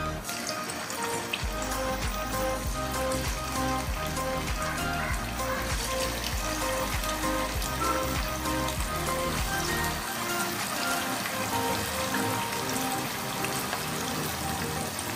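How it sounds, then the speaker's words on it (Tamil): Chicken 65 pieces deep-fry in hot oil, giving a steady dense sizzle and crackle that stays constant and close throughout with no talking. "காஞ்சோன்னே சிக்கன் போட்டு பொரிச்சிடலாம்."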